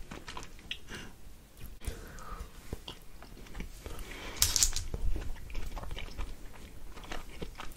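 Close-up crunching and chewing of American snack foods, with irregular bites and wet mouth sounds in a quiet ASMR setting, no talking.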